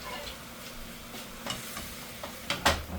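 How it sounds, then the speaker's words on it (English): Frozen beef being stir-fried in a pot, a faint, soft sizzle with scattered stirring clatters that grow louder near the end, close by and without speech. "So I'm gonna add my meat to there, and I'm gonna stir fry that."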